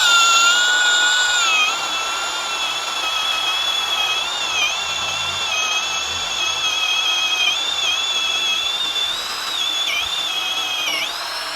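An HL 812 V2 16V brushless cordless impact drill at speed 2 in drilling mode bores with an 18 mm spade bit, a steady high motor whine that dips in pitch under load, close and alone.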